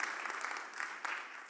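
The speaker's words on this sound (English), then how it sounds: "Navida Vinay, give her a round of applause." A TEDx audience applauds a speaker in a hall, a soft, distant continuous wash of many clapping hands, faint but steady for under two seconds.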